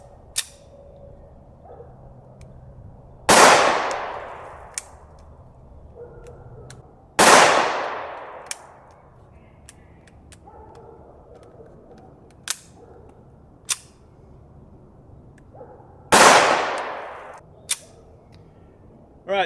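Smith & Wesson M&P 5.7 pistol fired without a suppressor outdoors, three loud sharp cracks with ringing decay spaced several seconds apart, plus a few quieter clicks and snaps between.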